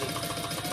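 A sewing machine runs a basting stitch on a tote bag lining, a brief steady mechanical hum with rapid needle pulses, close up.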